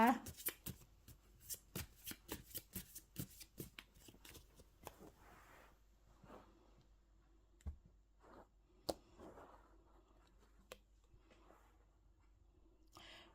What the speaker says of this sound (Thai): ขอเป็นตัวแทนสับให้ตัดไพ่ให้คนเกิดวันพุธนะคะ